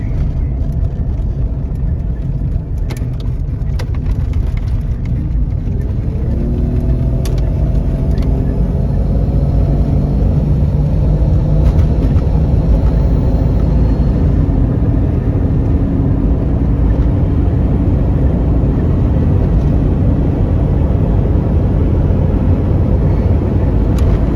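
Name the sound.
1994 Jeep Cherokee Sport XJ driving on the freeway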